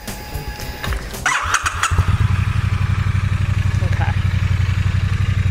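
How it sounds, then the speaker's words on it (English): A 2017 Triumph Bonneville with a fuel-injected engine and stock exhaust cranks and catches, then settles into a steady, fairly quiet, even idle; a voice says a single word before it starts. "I'm going to turn this bike on just so you can see how it sounds. Stock exhaust, so it's going to be pretty quiet."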